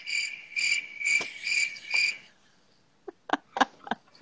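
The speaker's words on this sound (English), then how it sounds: "So crickets." Cricket chirping as a comic sound effect: five evenly spaced bright chirps ring out alone, then a short pause gives way to a few sharper, irregular clicks and chirps.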